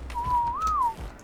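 A single whistled command in the survival game Ark: one clear, close whistle that holds level, rises briefly and dips before stopping, just over a second long, with light low-pitched background noise.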